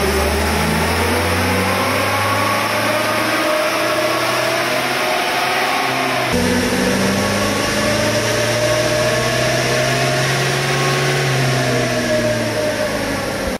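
A smooth, tuned Toyota Hilux 1KZ diesel pickup engine runs steadily close to the microphone, its revs rising and settling in a sustained, even drone with no talking.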